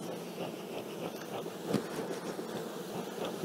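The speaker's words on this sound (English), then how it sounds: "So we'll give our bees a good smoke" A dense, steady hum of many honey bees buzzing around a hive, fairly close, with individual bees droning past; no voices.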